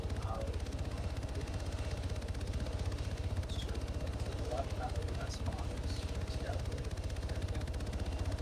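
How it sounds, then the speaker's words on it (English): A helicopter flies steadily, its low rotor thrum holding throughout with a continuous pulsing chop and no clear rise or fade, while faint muffled voices sit underneath. "Chopper went in shortly."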